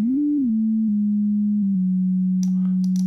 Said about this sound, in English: one sine wave oscillator at the moment